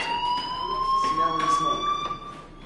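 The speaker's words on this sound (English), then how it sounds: "Hey, do you hear that fire alarm?" A fire alarm rings in the video game Life Is Strange as a steady, piercing electronic tone that holds without a break. Voices talk faintly underneath it.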